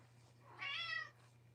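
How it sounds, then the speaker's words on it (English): A domestic cat gives a single drawn-out meow at close range, rising and falling over about half a second, against a steady low electrical hum indoors. "y'all hear Miss Kitty?"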